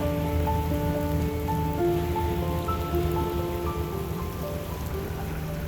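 Steady rain pattering down on an empty beach on a cloudy day, a constant broadband hiss with a low rumble beneath it, some faint tonal hum drifting through, and no voices.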